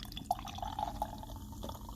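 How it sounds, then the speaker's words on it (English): A bottle of stout beer is poured into a glass, giving a faint, steady liquid trickle with small glugging drips over a low background hum, with no talking. "All right, I'm going to pour it."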